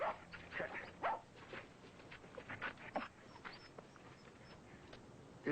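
A dog whimpers and gives short yips and barks in scattered bursts, fairly faint against a quiet background.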